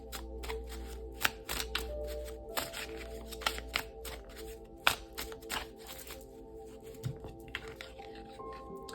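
A deck of affirmation cards being shuffled during a tarot reading, with close, crisp riffling and tapping in uneven bursts over a steady low hum, no talking.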